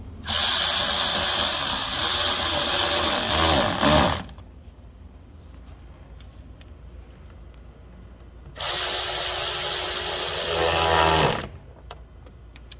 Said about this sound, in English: using your 7mm socket or flathead screwdriver, tighten down the intake pipe clamps